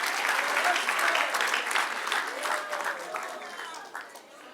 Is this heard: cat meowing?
no